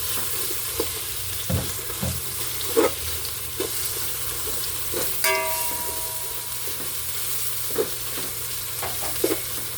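Vegetables go into a pan of pancit bato noodles and cook, giving a steady close sizzle with scattered scraping stir clicks and a brief hiss midway.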